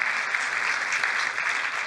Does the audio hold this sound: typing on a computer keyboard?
no